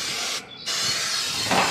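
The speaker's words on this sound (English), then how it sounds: "Just shake your olive oil up, or canola oil, and just spray it." Canola oil sprayed from an aerosol can onto the grates of a new Masterbuilt MES140/S electric smoker during seasoning: two close, steady hissing bursts separated by a short pause, with no talking.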